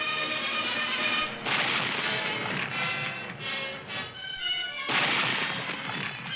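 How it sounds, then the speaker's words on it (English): Ship's cannons pounding a beach in a Revolutionary War re-enactment at Clark's Point on the Bedford shore, heard as a dense, continuous roar of booming, crashing fire that rises and falls in loud waves. "An appalling barrage from the ship's cannons assaulted the beach."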